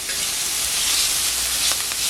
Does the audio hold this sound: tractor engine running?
no